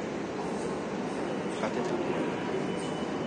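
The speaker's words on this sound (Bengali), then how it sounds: "এটা আমাদের প্ল্যাটফর্ম মেট্রো। চলো ট্রেনটা আসুক," A metro train rumbles loudly and steadily at a platform, a dense roar of wheels and carriages with a faint squeal, while a voice speaks briefly over it.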